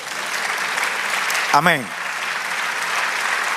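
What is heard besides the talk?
congregation applauding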